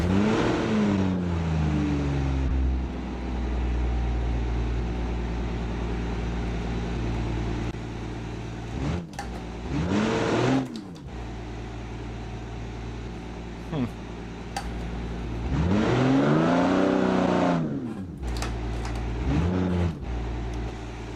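Rally car engine in a racing video game on a city street stage in Italy, holding a steady drone and then revving up and down in two rising and falling sweeps, loud and near, with a voice speaking over it at times.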